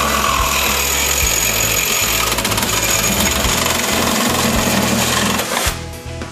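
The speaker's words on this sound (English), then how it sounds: "take our Sawzall with the metal cutting blade and we're going to cut it right on there" A Sawzall reciprocating saw fitted with a metal-cutting blade saws through a metal pole, producing a loud, continuous buzzing rasp that runs steadily and then stops near the end.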